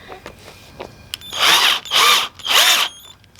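A power drill drives half-inch screws into a tufted full-length mirror frame in three close, loud whirring bursts, preceded by a few small clicks and taps, with no talking.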